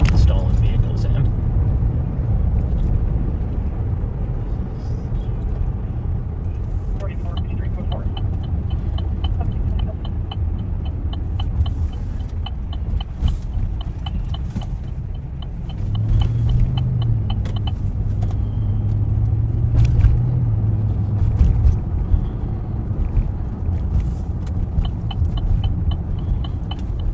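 A patrol car drives along a road past a hotel parking lot, a steady low engine and road rumble running throughout, with voices talking over it.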